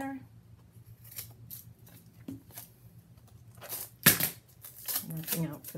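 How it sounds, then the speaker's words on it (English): Scissors cut black mat at an angle near a corner while an album box is being assembled. A few crisp snips and papery rustles come up close between pauses, with a voice also present. "Going to cut right at the angle, very close to"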